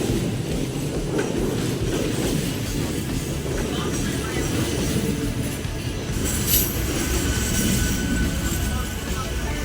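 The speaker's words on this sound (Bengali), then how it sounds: "আমতা লোকাল আসছে 2 নম্বর প্ল্যাটফর্মে।" An Amta local train rolls into platform 2 at a station, its continuous rumble and rail clatter heard at moderate distance under a voice speaking.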